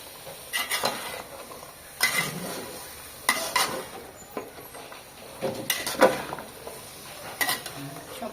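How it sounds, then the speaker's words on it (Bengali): Vegetable stems stirred in a frying pan during home Bangladeshi cooking, with repeated scraping strokes of a spoon against the pan at an irregular rhythm over a quiet background sizzle, close up. "এবার ডাটাটা দিয়ে দিচ্ছি, ডাটা দিয়ে সুন্দর করে ভালো করে নাড়াচাড়া দিয়ে নিতে হবে।"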